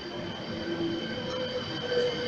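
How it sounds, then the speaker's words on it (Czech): A passenger train pulls into a station in Jindřichův Hradec, Czech Republic, with a steady rumble and faint wheel squeal throughout, heard from the platform with no talk. "Přijíždí vlak."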